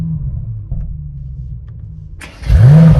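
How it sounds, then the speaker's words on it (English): A 2021 Mercedes E63S AMG sedan with its V8 engine idling low and steady, then firing up with a loud rising rev and booming exhaust roar near the end. "Meaning you have more noise from the engine and exhaust."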